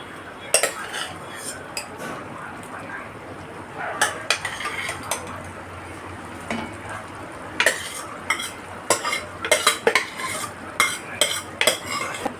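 Boiled dal going into roasted masala in a pot and stirred, with a spoon clanking and scraping against the metal in irregular loud bursts over a soft sizzle, no voices.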